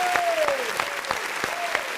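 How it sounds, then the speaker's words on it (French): Audience applause in a hall, a steady wash of clapping at moderate volume with a few sharp accents, continuous throughout, with a faint tonal sound gliding through in the background. "j'aimerais qu'on fasse ici encore un tonnerre d'acclamation"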